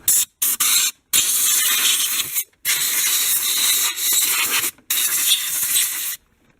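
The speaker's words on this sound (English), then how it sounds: "I'm going to spray it with some compressed air" Several sharp bursts of compressed air hissing close by, cleaning dirt off a Chevy Cavalier engine's valve cover, short blasts at first, then longer sustained sprays with brief pauses between them.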